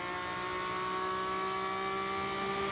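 Onboard a Porsche Supercup race car pulling away from the start in Mexico City, a steady loud engine drone with strong harmonic whine holding for a few seconds, no voices.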